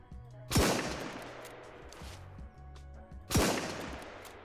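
Two suppressed gunshots from the survival video game Surroundead crack out about three seconds apart, each a sharp burst followed by a short tail.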